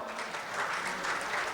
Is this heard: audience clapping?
yes